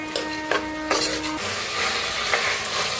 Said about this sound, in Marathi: शेंगदाणा आणि मटकी टाकूया. आता ह्याच्यातच बटाटो बी टाकूया. छान असं भाजून घेऊया.